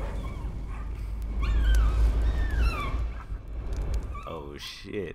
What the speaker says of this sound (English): Oh, this is my doggy.